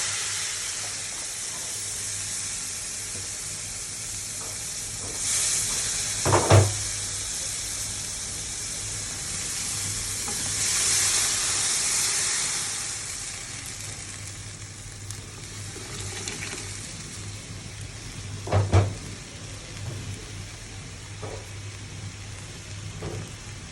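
Mango dal with fried onions sizzles in a pan, a steady hiss with louder bursts of sizzling and stirring that flare up briefly twice as the food is moved around.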